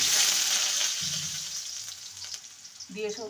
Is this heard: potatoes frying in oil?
yes